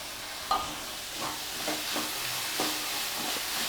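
Vegetables for fried rice frying with salt in a pan, a steady close sizzle with several soft stirring scrapes spaced through it, no voices.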